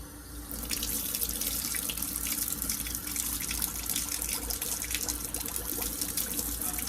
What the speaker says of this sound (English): We can rinse these thoroughly.